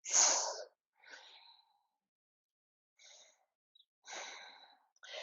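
A person does forceful yoga breathing, with a loud sharp exhale followed by several softer breathy rushes of air separated by silent pauses, close and alone.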